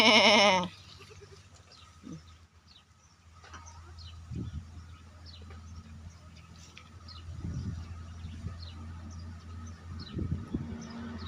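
Pygmy goats bleat in a farm pen, with a few short calls scattered over steady low outdoor background noise and occasional faint bird chirps.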